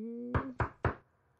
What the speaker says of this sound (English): He can just knock on Dodo's door and he'll open it.